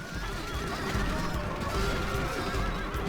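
Cavalry horses whinny and neigh amid a massacre of outnumbered Roman riders in Total War: Rome Remastered's Battle of Carrhae, shrill wavering cries rising over hooves and battle din.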